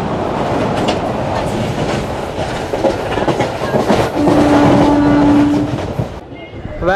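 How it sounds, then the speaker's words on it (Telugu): A passenger train on the Gondia to Nagpur route rolls into Kamptee station, a steady loud rumble and clatter of wheels on rails with a brief tonal squeal near the end before the noise drops away. "మన ట్రైన్ అయితే కామ్టీ అయితే వచ్చేసిందండి"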